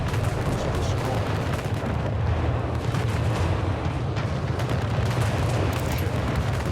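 Dense, continuous naval battle from the game Anno 1800, with cannon fire and ships exploding in rapid overlapping booms and heavy low rumble throughout, loud and close with no pauses.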